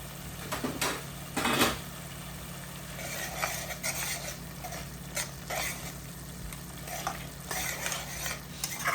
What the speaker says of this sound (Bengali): এখন আমি মেল্ট করে নিব পেঁয়াজ।